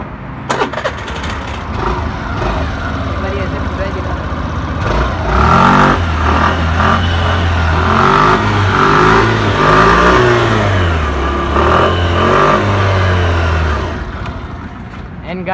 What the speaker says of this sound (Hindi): तो करते हैं गाइस गाड़ी को स्टार्ट, और इसका एग्जॉस्ट एक बार सुनना